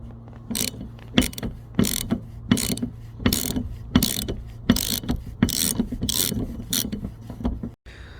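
A ratchet works loose a stuck nut on the rear wiper motor of a Chevy Uplander or Pontiac Montana, sounding a steady rhythm of loud, close clicking strokes with brief pauses between them.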